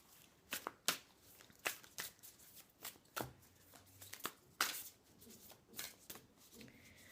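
Oracle cards shuffled and slid by hand, giving soft, close, irregular riffles and papery swipes in a quiet room, alone with no speech.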